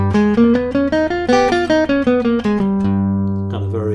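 An instrument plays the altered scale as a series of clear, evenly spaced notes climbing and then falling back, ending on a held low note, each note sounding alone with no talk.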